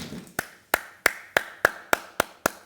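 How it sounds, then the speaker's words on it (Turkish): Eight sharp, evenly spaced hand claps ring out at a steady rhythm, close and clear, on the Turkish television show Survivor Ekstra, with no talking. "seni ayakta alkışlamak istiyorum."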